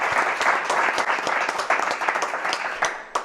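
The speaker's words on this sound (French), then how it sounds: "Ah, on applaudit Caro." A studio audience claps steadily and fairly loudly for a few seconds, dense overlapping hand claps without a break.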